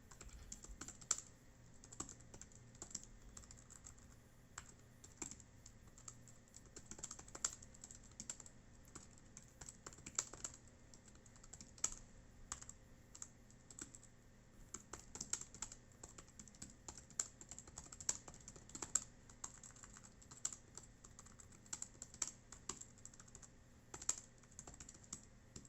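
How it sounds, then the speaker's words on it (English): Typing on the small built-in keyboard of a GPD Win Max handheld, a quiet, steady stream of light key clicks with irregular bursts, close and alone. "I found myself reasonably typing on this device after some time"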